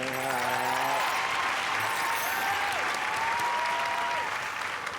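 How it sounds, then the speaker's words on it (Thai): Studio audience at a TV singing competition breaking into sustained applause, a dense steady wash of clapping throughout, with a sustained voice or tone faintly audible beneath it. "ขอเสียงปรบมือเป็นกำลังใจด้วยครับ"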